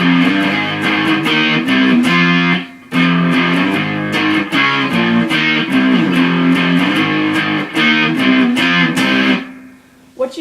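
Distorted electric guitar strumming power chords, loud and continuous with rhythmic muted chops, a brief pause near the start and a fade at the end.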